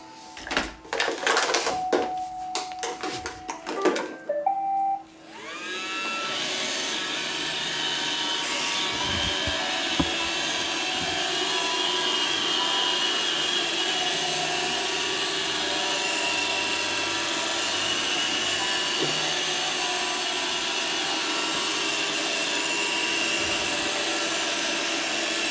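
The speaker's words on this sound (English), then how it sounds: "So I'll turn it on for you guys so you'll see it." An iRobot Roomba 535 robot vacuum, a little worn, starts with a few clicks and bumps, then settles into a steady, loud, even motor and brush hum that runs on without pause.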